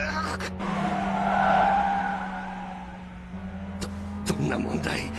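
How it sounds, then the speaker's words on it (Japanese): A car in the Initial D arcade racing game brakes hard with tires skidding and squealing, a long rising-and-fading screech over steady engine drone, with short sharp bursts near the end; a voice speaks over it. "ついてこれるかよ、サーキット仕込みのフルブレーキング。"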